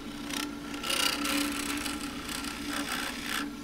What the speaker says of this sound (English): back in with the depth drill